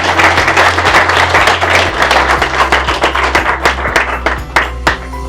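An audience claps loudly and continuously, dense overlapping hand claps filling the room, thinning slightly toward the end with a few distinct sharp claps.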